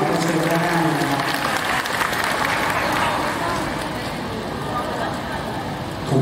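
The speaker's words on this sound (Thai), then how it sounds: "ปรบมือให้ผู้ช่วยนะครับ" Audience applause for assistants at a Thai fan event, a moderate, fairly even patter of clapping blended with crowd babble and some voices throughout.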